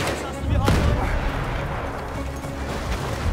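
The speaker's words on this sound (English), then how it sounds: "are being halted by our artillery barrage" An artillery barrage in the Battlefield 1 Sinai Desert Rush battle, loud and close, with a sharp blast early on giving way to a continuous roar of shelling and rumbling impacts.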